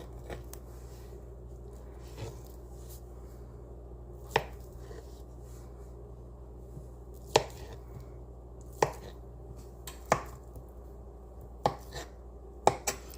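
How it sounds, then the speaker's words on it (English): Knife slicing Spam into small squares on a cutting board, with sharp isolated chops spaced a second or two apart over a low steady background hum. "I'll just slice up what I'm gonna eat today into little tiny squares"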